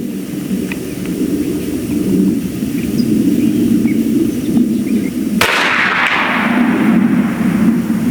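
A regulated BinTac M50 .457 airgun fires one sharp, loud shot at close range, breaking a steady background of outdoor noise.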